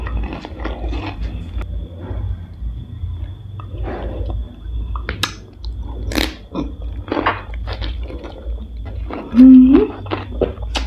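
Crunchy biting and chewing of Thai spicy noodle salad (tam khanom jeen) with crispy fried sausage and pork rinds, close to the mic, with irregular crisp crunches and wet mouth sounds throughout and a brief louder smack near the end.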